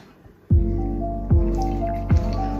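Three separate wet splats land at steady intervals, each followed by a soft sizzling hiss, like batter poured onto a hot greased griddle, close by with no talking.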